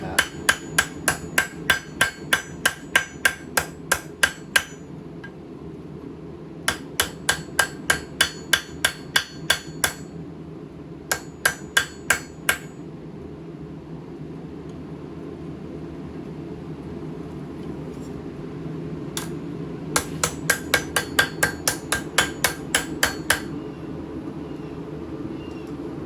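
A knife blade is hammered to form a bevel, with rapid, evenly spaced ringing metal strikes in three bursts separated by short pauses, fairly close and loud over a low background hum.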